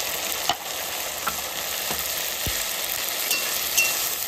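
Chicken kosha spices (dry chilli, ginger-garlic paste, turmeric and salt) sizzle steadily in a pan, a dense continuous hiss with a few sharp scraping stirs, close and alone without talk.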